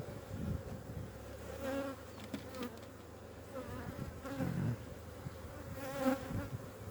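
Honeybees buzz steadily around an opened hive during spring hive warming, a faint continuous drone with individual bees passing close now and then, no talk.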